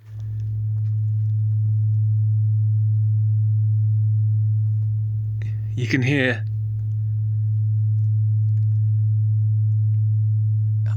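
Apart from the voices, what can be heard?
test sine wave tones played in a recording studio room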